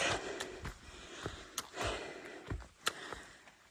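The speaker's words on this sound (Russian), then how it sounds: "если можете услышать по моему тяжелому дыханию" Heavy, labored breathing of a person climbing uphill on a mountain trail, a series of rough breaths and puffs at an uneven rhythm, close and fairly quiet, with no talking.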